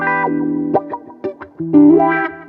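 A few electric guitar notes and a strummed chord run through an effects pedal, sounding warm and slightly distorted with short gaps between phrases.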